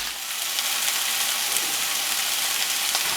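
Chilli, ginger and garlic sizzle steadily in hot oil in a pan, a close, even crackling hiss with small pops and no talk over it.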